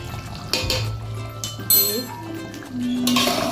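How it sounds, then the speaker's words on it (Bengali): A spoon clinks and scrapes against a metal pan while stirring a potol and shrimp curry, several bright metallic taps spread over a few seconds above a low kitchen hum and faint sizzling. "একটু নেড়ে নিতে হবে।"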